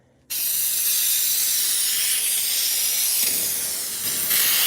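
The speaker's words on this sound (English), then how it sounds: "Let's see what this spray snow looks like." Aerosol can of artificial Santa snow being sprayed onto a Christmas tree, one loud continuous hiss that starts abruptly and runs for several seconds with a slight dip near the end, no speech.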